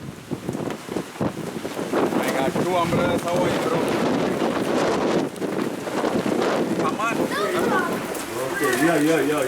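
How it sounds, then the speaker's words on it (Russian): Strong gusty wind buffets the microphone while rain falls, with voices talking through the noise. "Ребята, дождь, ветер, ураган."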